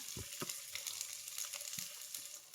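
A large onion drops into hot coconut oil and fries with a steady, fairly quiet sizzle and crackle, a few louder pops and spits standing out over it, no voices.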